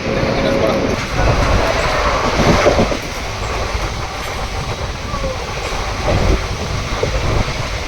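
A Kolkata to Digha special passenger train runs with a loud, continuous rumble and rattle heard from inside a carriage, with faint wheel noise and background voices.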